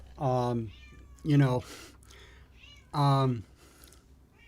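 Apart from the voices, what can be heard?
cat meowing in the background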